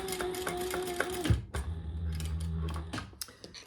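A sewing machine chain stitching a shoulder bag, a rapid needle chatter in two bursts separated by a brief pause and a low motor hum, close and clear with no talking.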